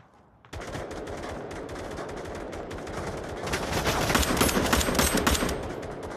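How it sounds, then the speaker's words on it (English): Gun firing in the VR shooter Onward: after a brief quiet moment, a loud, sustained burst of rapid automatic gunfire rattles on continuously and swells louder toward the end, close up, with no talk. "what does this gun sound like when it shoots?"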